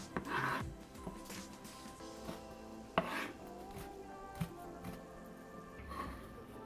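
A knife slicing through green onions and chilies for instant Shin Ramen, giving quiet, irregular cutting taps against a board with a few sharper chops standing out, close and fairly soft, with no talking.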